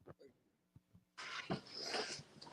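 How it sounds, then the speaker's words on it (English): Pack of dogs whimpering and growling nearby, with soft yips and breathy panting that rise into a louder rough rumble, mixed with brief voice sounds. "It's my pack of dogs."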